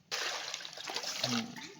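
Water rushes in abruptly and splashes as cut shevla vegetable is washed, a close, continuous gush with sloshing.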